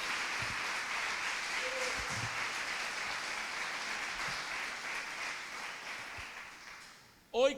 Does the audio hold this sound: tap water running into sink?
no